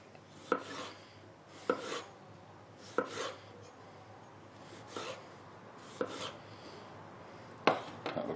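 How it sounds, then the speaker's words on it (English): A knife slices through yellow and Green Zebra tomatoes on a board, producing about seven crisp, separate cuts spaced roughly a second apart, close and fairly quiet over a soft background hiss, with no voices. "Let's do a bit of slicing."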